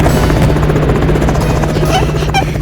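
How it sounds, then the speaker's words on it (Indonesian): A helicopter flies close by with a loud, steady rotor drone and engine buzz throughout, a constant low hum under the whole stretch. "Sebuah helikopter memotong ketegangan, membawa Kitty yang cantik dengan gaun emas."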